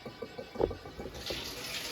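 Water squirts from the drain valve of an electric hot water tank during servicing, a short sputtering burst near the mic followed by a steadier hiss of flowing water.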